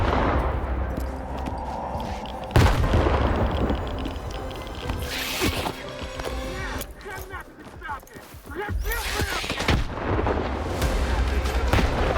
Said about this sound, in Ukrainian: я закидую їм гранату